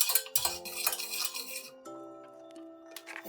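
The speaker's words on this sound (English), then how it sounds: "To the dashi prepared, add light soy sauce, mirin, and salt, and gently mix to combine." Light soy sauce, mirin and salt gently mixed into dashi in a bowl for chawanmushi, with soft stirring and light clinks of utensil against dish, close and fairly quiet.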